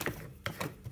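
A Badge It badge-making press is pushed, giving a few quiet mechanical clicks and clacks of the lever and parts in short bursts.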